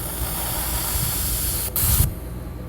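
A fuel injector on a 2005 supercharged Chevrolet Trailblazer sprays under pressure during a bench test, giving a steady close hiss. A louder burst of spray rises briefly near the end, and no voices are heard.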